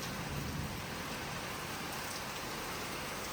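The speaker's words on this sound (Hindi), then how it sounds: "बारिश हो रही है" Heavy rain from a cyclone in Mauritius pours steadily in a dense, constant hiss, loud and close, with no voices.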